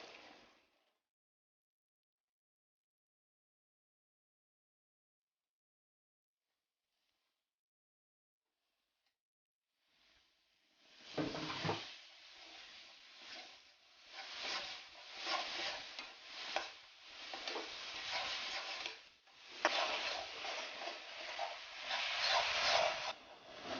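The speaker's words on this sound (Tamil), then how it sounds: "இப்போ வந்துட்டு பச்சை மிளகா, வெங்காயம்." Green chilies and onions sauté in a hot pan, a steady crackling sizzle with stirring scrapes that starts after a long quiet stretch and keeps going.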